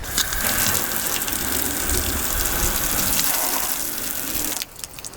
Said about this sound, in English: I've grabbed the water hose and I'm going to spray the hood down